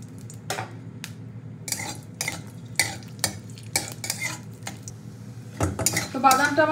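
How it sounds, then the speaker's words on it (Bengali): Peanuts fry in oil in a pan amid repeated clanks of a metal spatula against the pan, sharp scraping bursts over a low sizzle, close and rhythmic. "আগে প্রথমে আমি চীনাবাদামটাকে ভেজে নেবো।"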